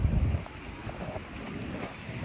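Steady wind rushes over the microphone along with the wash of ocean waves, a continuous rough roar with a heavier low rumble at the start and no voices.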